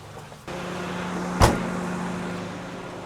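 A Honda Odyssey minivan hood is slammed shut once, making a single sharp, close thud that rises above a steady low hum and fades quickly.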